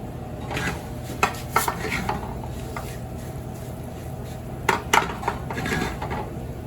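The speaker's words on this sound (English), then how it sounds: "So I've had a little sizzle going on since I put it in." Risotto rice clatters and scrapes in a pan as it is stirred with a metal utensil, sharp clinks punctuating a soft background sizzle.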